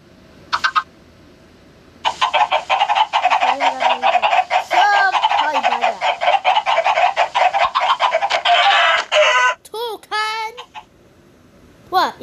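Chickens in and around a house cluck and squawk loudly and densely, a near flock calling almost continuously with brief gaps and a few sharper cries near the end.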